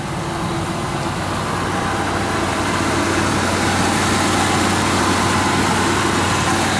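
A 1965 Ford Mustang engine idles quietly in a steady, even hum with no changes in pitch, close by and with no voices.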